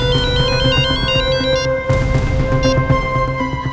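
A phone rings with a melodic electronic ringtone, the repeating chime pattern loud and steady over a tense television crime-drama scene.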